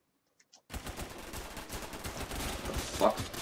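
Automatic gunfire in a Roblox first-person shooter, a sustained rapid stream of shots that starts abruptly after a near-silent moment and continues steadily, mixed with game sounds.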